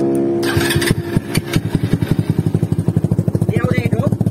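A motorcycle engine starts after a brief starter whir, then settles into a steady, rhythmic idle thumping, close and loud; a voice speaks briefly near the start.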